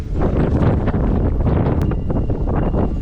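Strong wind sweeps across the top of Hadsar hill fort near Junnar after rain, a loud, continuous roaring rush buffeting the microphone with heavy gusts and no pauses.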